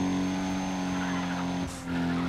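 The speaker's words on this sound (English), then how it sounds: "the engine sounds decent for a Skyline" Nissan Skyline engine in the racing game Need for Speed ProStreet, a steady loud drone with tire skid noise and a brief dip near the end.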